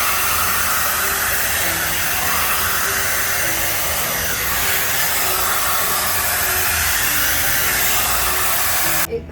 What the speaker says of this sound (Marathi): सो हा आहे स्ट्रेटनिंग ब्रश